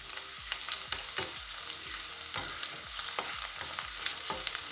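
Onions fry until slightly golden in a pan, giving a close, steady crackling sizzle. Regular scraping stirs come roughly every half second.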